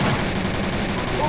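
An Uzi fires in the video game Penguin Massacre, a loud, continuous rapid burst of gunfire that keeps going through the whole short moment.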